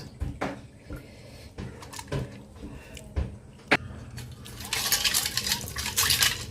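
Water poured into a pot while tamarind is squeezed by hand to make tamarind water for a curry: uneven splashes, squelches and clinks of the pot, ending in a louder stretch of pouring and sloshing.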